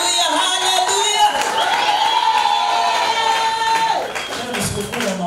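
A church congregation at a Lutheran harvest festival service in Mbagala cheers and shouts together, a dense, sustained crowd roar of voices with some clapping and children's shouts, continuous and loud before easing slightly near the end.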